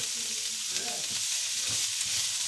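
Onions frying in oil rendered from chorizo give off a steady, close sizzle with faint stirring scrapes, no voices.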